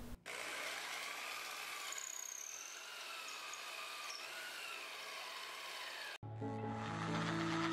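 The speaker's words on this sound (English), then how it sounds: "If we need to drill larger holes, we can use an electric drill with a hole saw." Power-tool whine as an electric drill with a hole saw cuts through bamboo, a sustained grinding buzz lasting about six seconds before stopping abruptly, followed by a lower humming tone.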